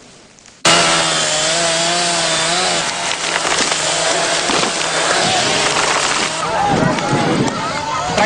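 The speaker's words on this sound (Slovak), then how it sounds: "Prakticky celá osada bola na nohách, len čo sa z lesa ozvali motorové píly." Chainsaws cutting wood in a forest, a loud engine whine that starts abruptly and holds a steady, rising and falling buzz as the blade bites through timber, with someone talking over it.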